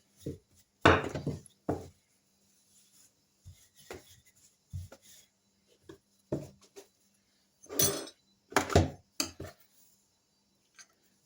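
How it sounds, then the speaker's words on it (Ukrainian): Soft thumps and knocks of a rolling pin working dough for quick soda pies on a floured surface, irregular and close, with short scraping rubs between quiet pauses. "Далі, обмакнувши в борошні, буду розкачувати наше тісто"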